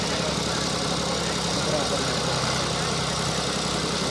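Tractor engines strain in a tractor tug-of-war contest, with John Deere 5310, Swaraj 855 FE and Sonalika 60 models named. A steady, dense drone runs throughout, heard from a distance under crowd noise and an announcer's voice.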